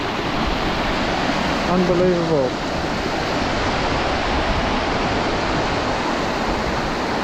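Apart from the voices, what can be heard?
small river flowing down in Bligh Sound, Fiordland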